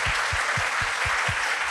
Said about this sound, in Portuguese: uma salva de palmas, dona Fernanda Takai